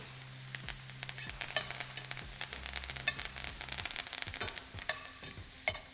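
Butter sizzles and fries in a pan with fresh rosemary and thyme while beef tenderloin is seared. A steady close crackle comes with soft stirring and scraping clicks, and nobody speaks.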